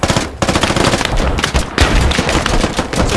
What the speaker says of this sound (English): Shoot the wheels.